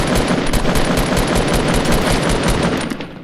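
Automatic gunfire in Fortnite rattles in a rapid, loud, close burst that runs almost without pause for about three seconds before easing slightly at the end.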